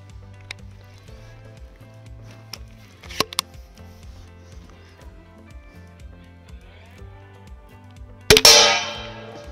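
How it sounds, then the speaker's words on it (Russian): A Mamba Fatality crossbow fires a bolt into a body armor plate, a sudden loud sharp impact near the end following quieter mechanical clicks and a low background hum, with a brief ringing decay after the hit. "Давайте попробуем выстрелить по бронежилету, точнее по пластине от бронежилета."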